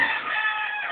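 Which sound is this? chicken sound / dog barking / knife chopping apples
chicken sound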